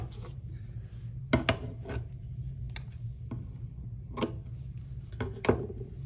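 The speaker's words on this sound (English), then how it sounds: "Scissors." Several short crisp snips and rasps, spaced irregularly over a low steady hum, close up and moderately loud.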